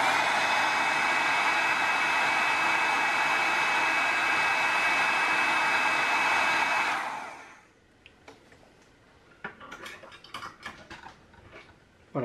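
Heat gun shrinking heat-shrink tubing over a soldered drone connector: a steady, loud blowing roar that cuts off after about seven seconds, followed by faint clicks and handling noises.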